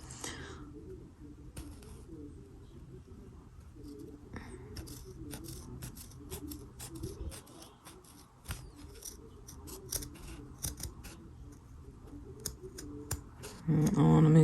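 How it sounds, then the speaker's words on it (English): Scissors snip excess thread from a handmade cross stitch bookmark, a long run of close, crisp clicking cuts in quick irregular rhythm, with a louder handling rustle near the end. "now I'm gonna cut the excess and we'll be done"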